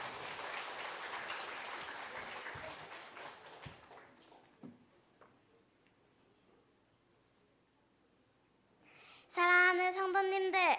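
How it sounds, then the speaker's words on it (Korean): Congregation clapping at a church service, a dense round of applause that gradually fades out over several seconds, followed by quiet and then a voice beginning to speak. "우리 박수 한번 해주시겠습니까?"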